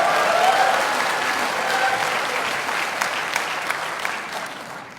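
An audience claps at a political party members' report meeting, a dense burst of applause that peaks early and then slowly thins out over a few seconds.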